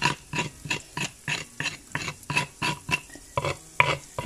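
Rhythmic stirring in a pan over very low heat with a soft sizzle, regular scraping strokes about twice a second over gently frying spices in oil.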